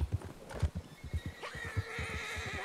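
Horse hooves clip-clop in a steady rhythm, followed by a loud, drawn-out neigh from an Appaloosa in the video game Red Dead Online, close and clear with no talking.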